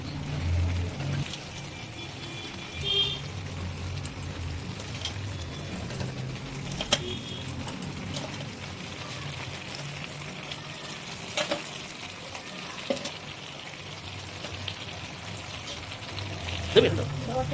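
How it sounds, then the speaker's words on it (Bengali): Curry with cabbage and fried fish heads bubbles and sizzles in a pan over a high flame, a soft, steady hiss with occasional clinks and pops at close range. "আর এই দেখুন বাহ ফুটছে এটা"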